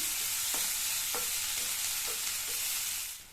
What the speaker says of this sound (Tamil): இது கூட கொஞ்சமாக கறிவேப்பிலை சேர்த்து இந்த வெங்காயத்தை லைட்டாக வதக்கி விட்டால் போதும்